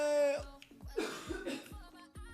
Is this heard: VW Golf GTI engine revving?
no